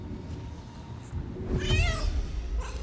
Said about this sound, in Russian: Так, сейчас замяукаю.